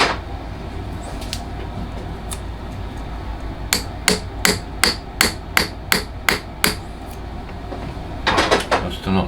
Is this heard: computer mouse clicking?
no